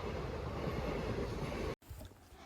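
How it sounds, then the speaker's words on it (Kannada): A train rolls past in open countryside near a farm, a moderate, steady low rumble that cuts off abruptly and gives way to quieter outdoor ambience. "ಟ್ರೈನ್ ಹೋಗ್ತಾರದ ಹೇಗೆ ನೋಡ್ತಾ ಇದ್ದಾನೆ"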